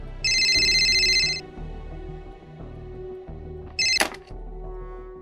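A telephone rings in an office, two loud electronic trills spaced a few seconds apart, with quiet room sound and faint movement between them.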